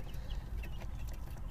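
Young chickens, new chicks outdoors, with soft, scattered clucks and peeps close by over a low outdoor rumble.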